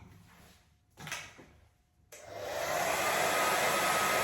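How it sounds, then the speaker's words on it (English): A hair dryer switches on and blows with a loud, steady roar on a wig after a few soft handling clunks and knocks. "I'm only going to use the hairdryer"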